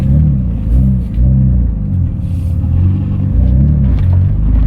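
Japanese car engine accelerating during a test drive, a loud close rumble rising and falling in repeated revving surges with no talk.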